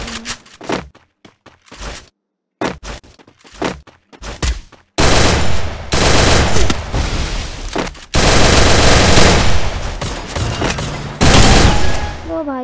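Rapid gunfire in a sniper shooting video game: bursts of sharp shots early, then long, dense, loud barrages of continuous firing, with voices talking in between.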